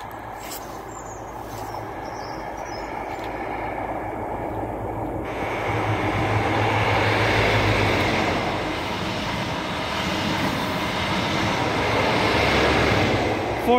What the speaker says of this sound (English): Now passing through is a ScotRail HST.